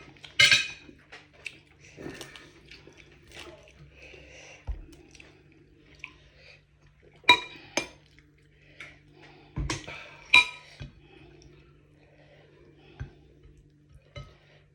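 Someone eats dinner by hand: Thai chili dip with canned fish and fresh vegetables. Soft chewing, occasional crunchy bites and scattered sharp clinks of dishes and utensils come up close in a quiet room.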